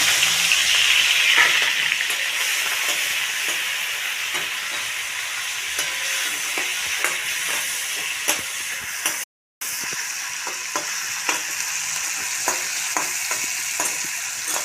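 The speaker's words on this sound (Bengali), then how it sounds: "চিংড়ি মাছটা দিয়ে দিলাম" Prawns frying in plenty of hot mustard oil in a wok, a loud continuous sizzle with scattered pops and stirring clinks, briefly cut to silence midway, with no speech.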